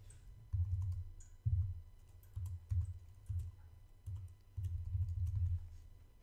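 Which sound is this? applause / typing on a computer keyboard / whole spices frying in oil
typing on a computer keyboard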